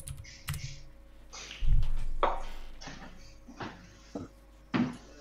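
Scattered computer keyboard keystrokes, a handful of separate clacks and thuds spread unevenly with pauses between them, fairly close and heard alone without talk.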